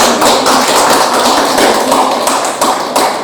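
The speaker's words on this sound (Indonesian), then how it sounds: "Kita beri aplaus Bapak Ibu." Audience applause at a seminar on positive school culture, dense steady clapping from a crowd filling the room, loud and close, with no voices over it.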